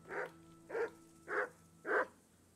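A dog in the video game Kingdom Come: Deliverance barks four times at an even, unhurried pace, each bark clear and moderately close over a soft, low ambient hum.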